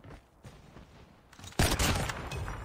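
A sniper rifle shot from a first-person shooter video game, a sudden loud blast that rings out and decays with rumbling reverberation after a quieter stretch of faint game noise.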